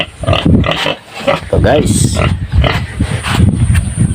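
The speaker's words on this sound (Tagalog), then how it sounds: "ito may baboy dito oh" A pig grunts and oinks close by while someone talks over it, with outdoor farmyard noise throughout.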